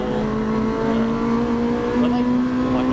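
Race cars lapping Brands Hatch GP at a trackday trophy event, a steady loud engine drone holding one pitch and then climbing slightly, with commentary running over it.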